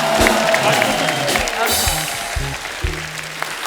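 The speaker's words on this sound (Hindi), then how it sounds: "एक बार हमारे मेहमानों के लिए जोरदार तालियां हो जाएं" Loud applause and cheering from a television studio audience at a qawwali night greets guests like the Sabri Brothers, a dense crowd roar with low tones and a voice beneath that thins gradually.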